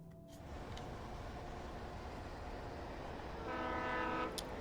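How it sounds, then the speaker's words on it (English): A train rumbles past in Alan Wake, a steady low roar that swells in the last second as a horn-like tone enters; the sound is quiet overall and no one talks. "Train."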